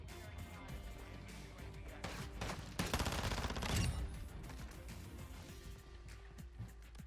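Vel 46 submachine gun firing in Modern Warfare II, sustained rapid automatic bursts packed with other gunfire and game effects, loud and continuous throughout with a heavier stretch midway.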